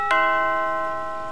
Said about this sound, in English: I'll try the doorbell.